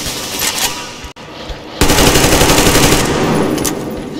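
A full magazine fired from an automatic weapon in Metro Exodus: a loud, rapid burst of shots rattles on for a few seconds after a couple of quieter, scattered sounds.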